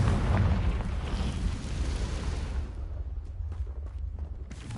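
The Confringo blasting spell explodes in the video game Hogwarts Legacy, a loud, deep, rumbling blast that decays into crackling debris and lighter thuds, with no talk.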